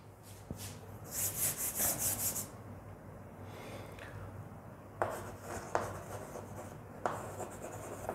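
Marker or chalk strokes scratch and rub across a classroom board in a few bursts, with sharper taps between them and no talking.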